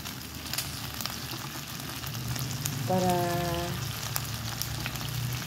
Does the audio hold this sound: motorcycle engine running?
no